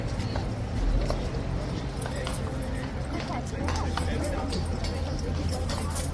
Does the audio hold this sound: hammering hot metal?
no